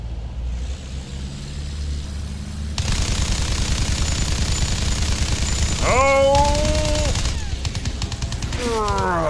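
Battlefield 1 gunfire aimed at German enemy fighter planes: dense, steady rattling bursts of shooting that start abruptly and carry on throughout, mixed with aircraft engine drone and rising whines, with faint speech underneath.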